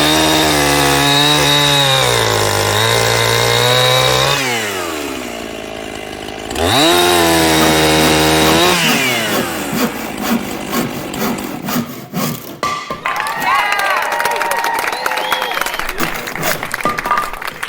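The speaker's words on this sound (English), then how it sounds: "I'm just gonna make these next 3 cuts by hand" Handsaw cutting wood for a DIY Nordic curl bench, with loud rhythmic rasping back-and-forth strokes close up, briefly pausing and then resuming with a choppier, rougher rasp toward the end.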